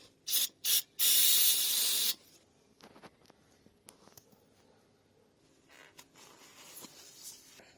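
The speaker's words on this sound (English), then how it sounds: "Spray it down with some brake cleaner." A few short bursts of aerosol brake cleaner followed by a longer steady hiss, sprayed onto a leaking transmission connector on a P38 Range Rover, then quiet rubbing and faint clicks.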